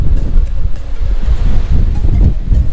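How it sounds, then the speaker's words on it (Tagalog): Strong wind buffets the microphone at the Three Sisters lookout in the Blue Mountains, a loud low rumbling roar with gusty swells throughout and no speech. "Sarap ng hangin."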